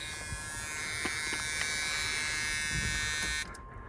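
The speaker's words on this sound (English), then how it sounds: "Key buzzer works." The key-in-ignition warning buzzer of a Chevrolet Camaro Berlinetta drones steadily and loudly inside the car, a continuous electric buzz that cuts off abruptly near the end.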